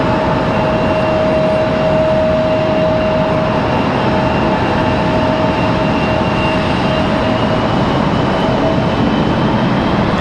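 A JetBlue airliner taxis at Raleigh-Durham airport, a steady loud engine roar with a constant whine held throughout.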